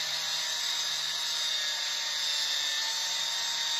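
A power tool grinds steadily through a rusty ball joint collar on a 1971 Volkswagen Bus, a continuous high-pitched whine and rasp that runs close and unbroken throughout, with no speech.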